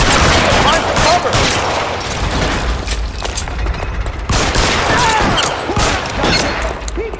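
Sustained gunfire in an L.A. Noire shootout, loud and dense with rapid overlapping shots and booming impacts throughout, with some shouted game dialogue mixed in.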